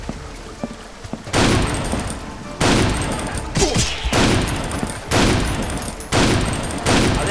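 Fireworks weapon in the shooter game Painkiller: Overdose fires in repeated loud bursts, each a crackling, booming blast roughly every second and a half, with dense clattering tails between shots and no talk.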